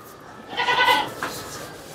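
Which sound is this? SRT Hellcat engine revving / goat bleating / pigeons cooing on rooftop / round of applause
goat bleating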